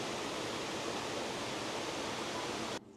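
A waterfall viewed from a balcony at Disney's Wilderness Lodge, heard as a steady, dense rush of falling water that cuts off abruptly at the end.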